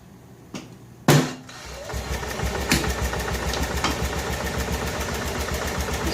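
A 1988 Club Car golf cart engine with a new carburetor and fuel pump cranks, catches with a loud pop and settles into a steady, close, rhythmic putter at idle.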